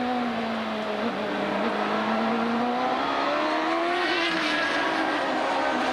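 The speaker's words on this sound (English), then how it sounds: "Michael Andretti, you're on board with him now" Onboard a CART IndyCar racing at the 1996 Toronto street race, the engine wails at high revs in a continuous, loud, close drone, its pitch rising and dipping through shifts and corners.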